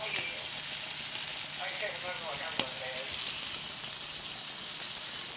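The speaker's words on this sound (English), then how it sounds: "Now I'm pan-frying my sausage after I boiled it." Polish sausage, first boiled, now pan-frying for a sear, giving a steady close sizzle and crackle throughout with one sharp tap partway through, no talk over it.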